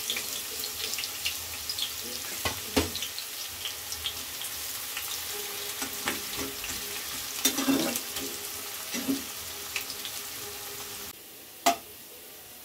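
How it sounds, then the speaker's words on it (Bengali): Onions frying in hot oil until browned for chicken biryani give a continuous close sizzle with scattered clinks and spatula scrapes, then the sound drops away near the end before one sharp knock. "পেঁয়াজগুলো লাল করে ভাজা হয়ে গেছে"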